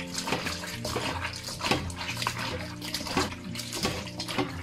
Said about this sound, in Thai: ก็ใส่น้ำล้างเลยค่ะ